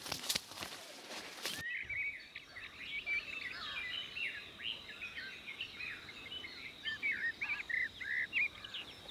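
A brief burst of noise gives way to many birds chirping and singing together at a moderate distance on an Indian coffee plantation, with quick, overlapping calls throughout.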